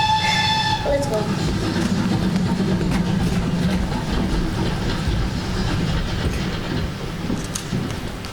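A train arrives on the railway with a loud, continuous rumble and rattle of wheels. A brief horn-like tone opens the sound before it slowly eases off.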